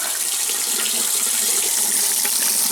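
Steady, loud rush of water pouring from a water heater drain valve during a flush, a continuous hissing gush with no breaks.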